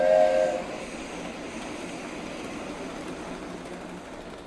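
A toy train in the video game Boxes: Lost Fragments lets out a short whistle toot, then keeps up a steady rumbling chug as it runs along, with no talking.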